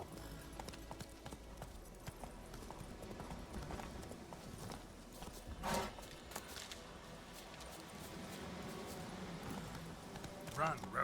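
Roach, a horse in The Witcher 3, gallops with a steady, fast clip-clop of hooves and a louder burst of hoofbeats near the middle, while voices speak over the running.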